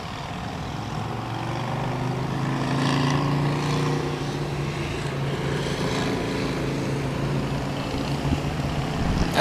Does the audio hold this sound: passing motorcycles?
yes